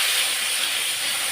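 Sambar tempering with mustard seeds, fenugreek, dried chillies, onion and curry leaves gives a continuous, soft, bright sizzle that holds steady throughout, with no one speaking.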